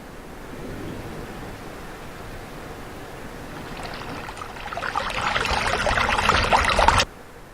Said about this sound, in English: once I've laid in my Raging River track